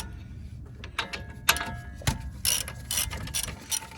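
Ratchet on a breaker bar turning a wheel hub bolt on a RAM 1500, a series of quick close clicking bursts with short pauses between strokes.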